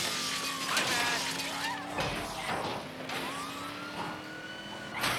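A stolen police car's wailing siren in the Gangstar 4 video game, rising and falling continuously over engine noise and crashing impacts during a chase, loud and close throughout.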